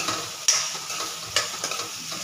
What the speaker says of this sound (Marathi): चला तर मी कांदा एकदम व्यवस्थित भाजून घेते